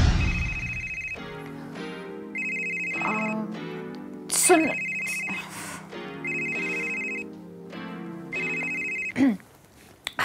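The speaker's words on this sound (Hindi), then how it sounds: "अरे वो एक्चुअली ऋषि का फोन नहीं लग रहा था तो मैंने तुम्हें फोन किया।" A telephone rings indoors in a Hindi comedy sitcom scene, its electronic ringtone repeating in a loud, regular pattern of bursts separated by short gaps, with scattered clatter in between.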